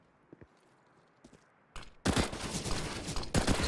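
Pistol gunfire in a CS:GO match bursts in after a quiet stretch with faint footsteps, then several loud rapid shots crowd together near the end.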